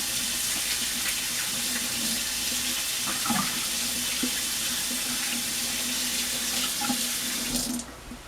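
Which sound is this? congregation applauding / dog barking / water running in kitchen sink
water running in kitchen sink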